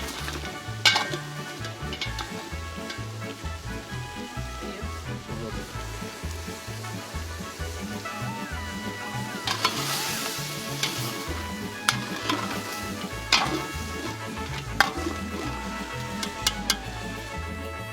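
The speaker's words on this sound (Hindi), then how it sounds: "गोश्त को कुछ खुशबूदार मसालों में तेज आंच पे भूना" Loud, continuous sizzling of meat frying in spices over a high flame, with frequent scraping and clanking of a utensil stirring against a metal pan.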